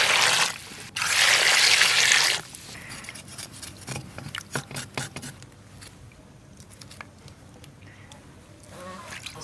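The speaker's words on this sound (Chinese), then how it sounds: "羊蹄儿洗一下。" Lamb trotters are washed under running water, a loud splashing gush for a couple of seconds followed by wet handling, dripping and soft clatter.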